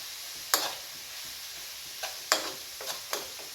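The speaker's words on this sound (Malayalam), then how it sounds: "വെളുത്തുള്ളി ഇഞ്ചി പച്ചമുളക് പേസ്റ്റാണ് കേട്ടോ അതിൽ ഇവിടെ ഞാൻ ചതുക്കിയിട്ട് വെച്ചതാണേ ഇത് ഇട്ട് കൊടുക്കാം" Garlic, ginger and green chili paste dropped into a pan with onion, giving a few brief sizzling bursts and stirring scrapes over a quiet background, close by.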